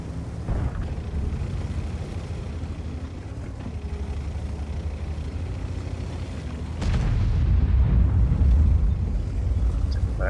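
Tank gunfire with explosive shells rumbles through a World of Tanks battle as a continuous low, heavy din of engine and distant booms, swelling louder in the last few seconds.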